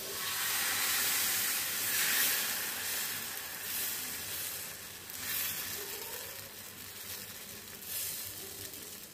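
Batter sizzling and hissing on a hot pan while being cooked into a snack, a steady close frying crackle with swelling bursts of steam, no talking.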